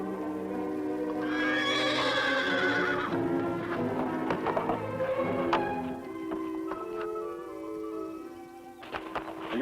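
A horse called Fury, in an old Western television series, gives a loud, long whinny near at hand, then its hooves clip-clop in a steady, irregular patter.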